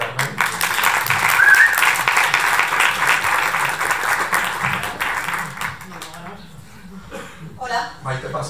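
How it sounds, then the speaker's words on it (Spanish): An audience at a short-film presentation at the Filmoteca Española claps loudly and continuously, a dense sustained applause that thins out near the end as a voice speaks. "Bueno, un aplauso para Carmen"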